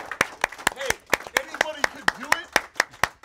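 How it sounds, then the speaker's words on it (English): Audience applause at a live E3 2018 evening show, with steady, sharp claps forming a loud rhythmic wall while voices cheer and call out over it. "Keep clapping"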